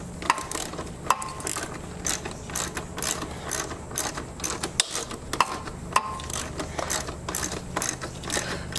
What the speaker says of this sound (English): get your wrench and just tighten the calipers down